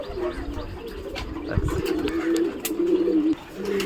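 A chorus of pigeons coos close at hand in a continuous, warbling drone, broken by a few soft bumps and a brief muffled voice.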